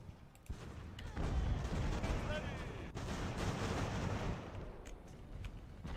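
Cannon and musket fire rumble through an Ultimate Admiral Age of Sail battle, a dense continuous roar of overlapping distant shots and booms that swells and holds for several seconds.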